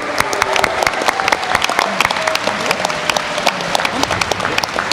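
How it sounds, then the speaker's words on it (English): A convention audience at MCM London Comic Con applauds the Welcome to Purgatory panel cast and director, a steady, dense clapping crowd that fills the room for the full stretch. "keep your round of applause going for our Welcome to Purgatory cast"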